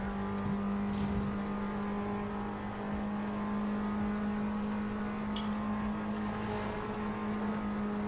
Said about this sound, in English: Let's go on board with Jealous and see if he can catch him before the chicane